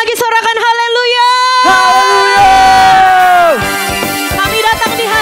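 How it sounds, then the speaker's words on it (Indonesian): A church congregation at an evening Pentecostal worship service shouts hallelujah together, a loud, close mass of voices swelling over sustained tonal music and fading out after a few seconds. "Sekali lagi sorakan haleluya."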